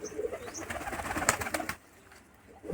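Pigeons coo steadily in a breeding loft housing red and black birds with chicks, a dense close chorus of soft throaty calls that drops to a quieter murmur near the end.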